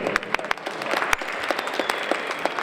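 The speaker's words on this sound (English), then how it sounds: "Give yourselves a round of applause for that." An assembly audience applauds, a burst of many hands clapping at once with sharper individual claps popping out, steady and fairly close for a few seconds.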